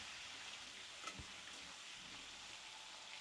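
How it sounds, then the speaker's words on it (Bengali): Mushrooms fry with onion and tomato in a pan, giving a faint, steady sizzle with a soft stirring knock partway through. "মাশরুমগুলোকে পেঁয়াজ আর টমেটোর সাথে ভেজে নেব 2 মিনিটের মতো।"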